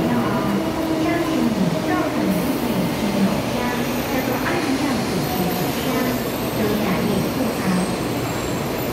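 A high speed train, number 672, rumbles steadily, pulling into the station at Taichung, Taiwan, with a continuous roar of wheels on track and a faint high squeal, with no voices.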